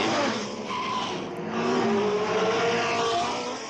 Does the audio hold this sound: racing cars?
yes